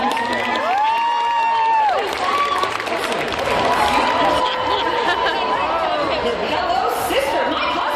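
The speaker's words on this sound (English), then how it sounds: "Let's give her a round of applause." Fashion show crowd breaks into loud applause, cheering and whoops, sustained throughout with excited shouting and chatter layered over the clapping.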